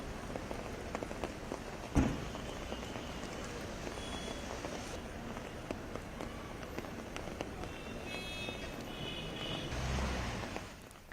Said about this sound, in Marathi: मुंबई उपनगरात सुद्धा पावसाची संततधार कायम होती